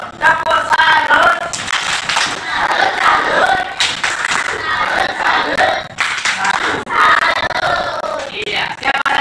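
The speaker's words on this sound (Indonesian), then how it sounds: "Ayo tepuk tangan." Pupils in a school classroom clap and cheer together for a classmate. The loud group applause comes in several swelling bursts, mixed with shouts.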